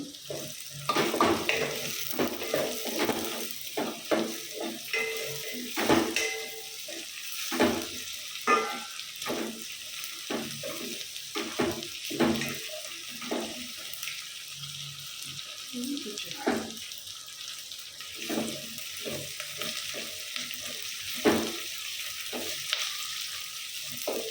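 Green chillies, four or five of them, frying in a pot with sizzling crackle and repeated scraping stirs throughout, for a pumpkin pulusu, with a voice occasionally talking over it.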